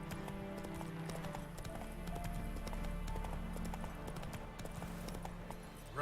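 Roach the horse galloping in The Witcher 3: Wild Hunt, a steady rapid clip-clop of hooves running continuously over a low game ambience, fairly quiet and even throughout.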